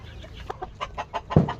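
Free-range village hens, with young birds three to four months old, give a short run of soft, close clucks and murmurs, one louder cluck near the end.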